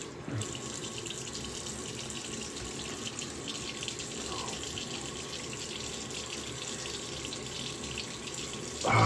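Water runs steadily from a faucet into a sink to rinse a razor during a shave, a continuous soft hiss throughout with a louder splash at the very end.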